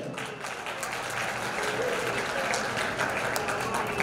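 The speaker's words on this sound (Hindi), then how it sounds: "जोरदार तालियां बजाएं" Applause from a crowd of children and guests at a community talent award ceremony, a dense, steady wash of clapping holding at even loudness throughout with a faint voice beneath.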